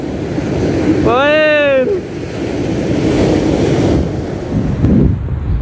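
Surf and wind at Buntun Beach, a constant washing roar with microphone wind buffeting, while a voice briefly speaks over it early on.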